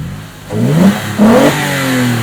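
A car engine revs up twice in quick succession, each throaty rise in pitch falling back to a rumbling idle, close and loud.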